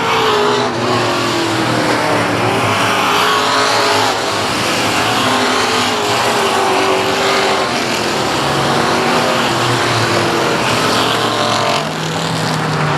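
Race cars roar around a South Texas oval speedway, a dense, continuous engine drone with rising and falling pitch as the pack circles, loud and steady throughout with no talk.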